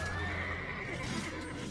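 A horse neighs in the Age of Empires 2 video game, a sustained whinny under a dense, loud battle soundscape with constant background din throughout.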